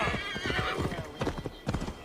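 Horse hooves clip-clop steadily at a riding pace through an untamed forest in Glowecestrescire, a video game setting in Assassin's Creed Valhalla, with a whinny-like tone layered over the close, rhythmic footfalls.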